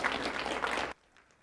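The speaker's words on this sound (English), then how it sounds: "I'd like to, again, have you all give Elaine and Lilia a round of applause for all their hard work" An indoor conference audience applauds its organizers with a short, dense burst of clapping that stops abruptly, leaving near-quiet.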